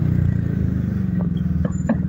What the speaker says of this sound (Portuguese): O escapamento faz muito mais barulho.